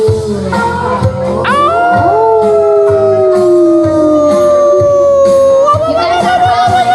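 Audience howling like wolves along with a live song, several drawn-out sliding voiced howls layered together over band music, loud and sustained, with voices imitating wolves.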